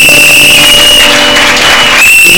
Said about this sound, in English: Please clap for them if you want to be clapped for tomorrow.